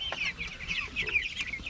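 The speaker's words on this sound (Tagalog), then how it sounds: "bali ito na po ang ating mga manok" Native chickens clucking close by, a steady run of short overlapping clucks and calls from several birds with no talk.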